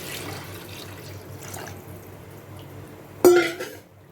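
Water is poured into a pot of chicken biryani masala in a home kitchen, a short splashing gush near the end after faint clatter.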